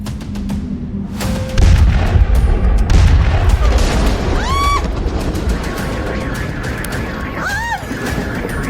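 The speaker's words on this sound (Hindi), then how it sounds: "वेनेजुला के आसमान में गोले बारूद बरसने लगे।" Bombs and shells explode during a US air strike on Caracas, Venezuela: repeated heavy booms and crashes roll over a continuous roar, with a couple of brief whistling tones cutting through.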